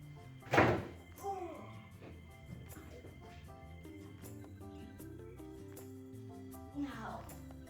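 A closet door is taken off its hinges, giving one sharp wooden thunk followed by a softer knock and later another thump, with a person talking over it.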